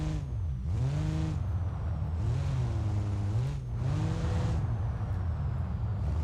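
Car engine in the BeamNG Drive driving game, a steady droning hum that rises and falls in pitch as the vehicle accelerates and shifts, continuous and fairly close.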